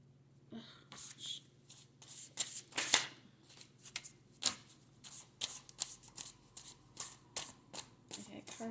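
Tarot cards shuffled by hand, a run of quick crisp riffles and soft slaps that come in bursts with short gaps, close up and fairly quiet, some cards catching and sticking together.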